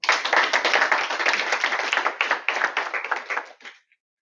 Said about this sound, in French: Merci pour l'applaudissement.